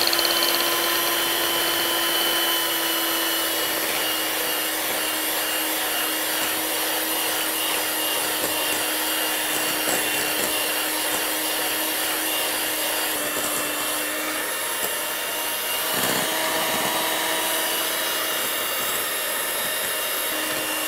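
Electric mixer beating chocolate fudge frosting made with vanilla and chocolate, a steady loud motor whir that holds for about twenty seconds and lifts briefly near the end, with no talking.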